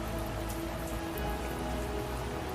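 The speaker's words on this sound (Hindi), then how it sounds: "ये क्या मुसीबत है, अब बारिश भी" Rain falls steadily on surfaces, a dense, even hiss of drops pattering throughout at moderate, constant volume with no voices.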